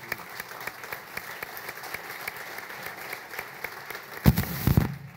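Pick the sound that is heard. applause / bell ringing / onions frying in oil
applause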